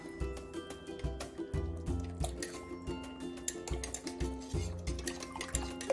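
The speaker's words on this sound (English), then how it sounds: "So we're gonna whisk it." Sourdough starter mixture is whisked in a bowl, giving quiet, rhythmic wet taps and sloshes at a steady pace, close up and alone.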